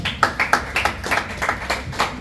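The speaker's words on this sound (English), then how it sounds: "I think we clap up for that" A small group clapping at a Nigerian farmland and resort presentation, a short burst of fairly close, rhythmic hand claps.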